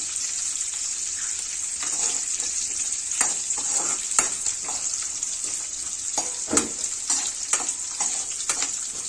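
Curry leaves and vakkaya berries fry in a pan with a steady bright sizzle, broken by sharper crackles and spatters as they hit the hot oil, close and loud with no talking.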